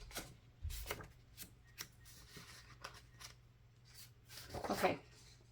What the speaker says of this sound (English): We'll just go with these scissors because the other ones obviously aren't sharp enough.